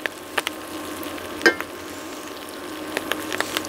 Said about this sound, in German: Und Sie sehen, schon fängt das unheimlich schön an zu brutzeln.